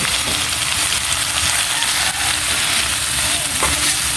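Bitter gourd sautéing in a hot pan makes a loud, dense, continuous sizzle and hiss up close, with faint stirring knocks beneath it.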